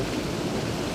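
Water rushes over Hull Creek Falls among winter icicles, a loud steady broadband roar close by and filling the moment, no talk.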